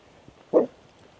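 A dog gives a single short bark at mid distance, a brief burst standing alone over quiet outdoor background while an RC basher car is being checked.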